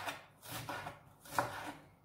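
Vegetables for a Greek salad chopped on a board with a knife, heard as a few soft, evenly spaced cuts, quiet and close, with no talk.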